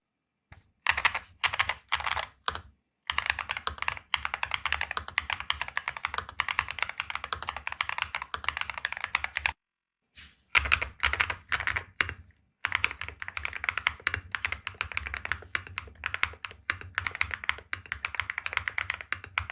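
Rapid clicky typing on a mechanical keyboard, close and continuous, with heavier thocks from larger keys and two brief pauses.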